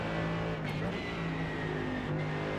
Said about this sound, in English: Little feather of the throttle, and now full throttle.